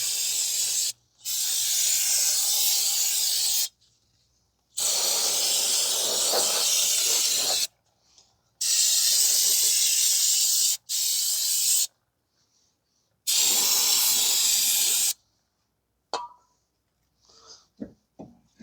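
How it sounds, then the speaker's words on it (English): Brake cleaner sprayed onto the rear brakes of a 2012 Ford Fusion 2.5: four long, loud hissing bursts separated by short pauses, followed by a few faint clinks. "Clean everything down with brake cleaner."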